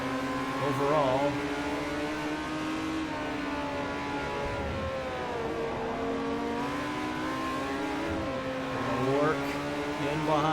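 Acura prototype race cars in Forza Motorsport 4 during the 2008 Petit Le Mans race, with engines droning and revving steadily under continuous talk, pitch rising and dipping through the corners.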